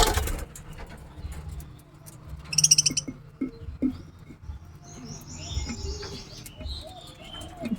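Budgerigars in a breeding cage chirp in scattered bursts, with a sharp twittering cluster and thinner high calls between softer rustles and a voice talking in the background.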